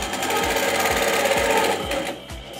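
A sewing machine with a hopping foot stitches straight quilting lines on a quilt, its needle running in a fast, even mechanical chatter with a soft rhythmic thump, close and loud, then slowing near the end.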